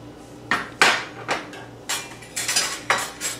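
Glass baking dish set out for zucchini apple bread, giving a series of sharp clinks and knocks close by, about seven distinct hits spread unevenly with brief rattles between, no talking.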